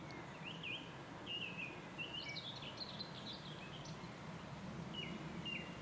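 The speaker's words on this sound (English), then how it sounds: "Wonderful song thrush up there." A song thrush singing in Hothe Wood near East Malling in Kent, its clear repeated phrases coming from up in the trees at moderate distance over a steady low rumble of background noise.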